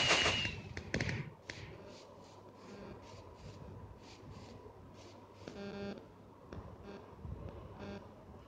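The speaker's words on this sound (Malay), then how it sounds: "Pertunjukan bunga api yang cukup menggembirakan." Bursts of Minecraft Pocket Edition video game fireworks popping and crackling, some sharp and close, others softer, scattered irregularly over a low background rumble.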